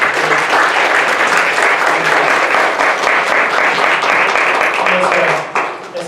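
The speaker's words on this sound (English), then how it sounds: "Let's give our presenters a round of applause." A workshop audience gives presenters a loud, sustained round of applause with dense clapping for about six seconds that tapers off at the end.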